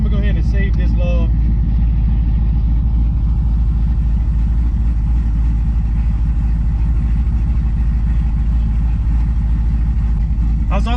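Pontiac G8 GT with a stage 2 cam, its engine rumbling loud and steady from inside the car with a deep, continuous low drone and a choppy idle character, with a voice talking over it at the start.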